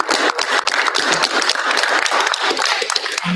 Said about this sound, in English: I just want to give a round of applause to our business office